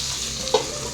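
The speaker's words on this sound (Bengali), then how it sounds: "এদিকে ঢ্যাঁড়স সর্ষে করবো বলে ঢ্যাঁড়সটাও ভাজতে বসিয়ে দিয়েছি," Okra frying in a pan gives off a constant close sizzle, broken once by a brief clink of a utensil.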